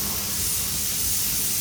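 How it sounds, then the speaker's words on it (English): A continuous, close hiss of a spray gun spraying black paint on a car rear axle, steady and even for the whole short stretch. "and now Dad's spraying it black."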